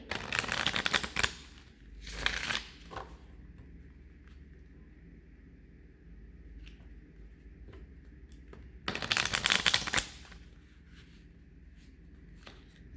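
A deck of tarot cards is shuffled in two crisp riffling bursts separated by quiet stretches with small clicks and handling noises, close and fairly soft.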